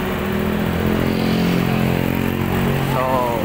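An Easyride 150 motorcycle engine running while it has an RPM fault, giving a steady, fairly loud mechanical drone throughout with a person talking over it.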